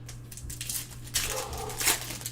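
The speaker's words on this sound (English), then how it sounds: "my dogs are so annoying. They will not stop." Dogs barking and whimpering indoors, with short bursts of yelping and whining over a steady electrical hum, loudest around the middle and near the end.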